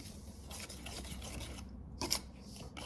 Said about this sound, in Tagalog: So I will use wire whisk to mix it.